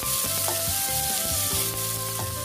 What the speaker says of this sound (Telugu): ఇప్పుడు మనం కట్ చేసి పెట్టుకున్న ఈ బౌల్ ఉల్లిపాయలు ఇందులో వేసుకొని కలర్ మారేంత వరకు ఫ్రై